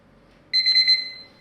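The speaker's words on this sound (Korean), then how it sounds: "정확하게 4분을 재기 위해 타이머를 사용해 주겠습니다." A kitchen timer rings while a cup of jjajang ramen cooks: a loud, bright electronic beeping alarm in a short pulsing burst that starts suddenly and then cuts off.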